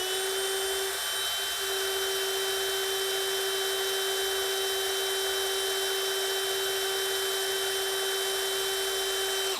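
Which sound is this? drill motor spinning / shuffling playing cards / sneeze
drill motor spinning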